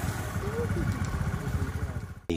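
A scooter's engine gives a close, continuous mid-pitched putter for about two seconds, then a short clunk just before it cuts off.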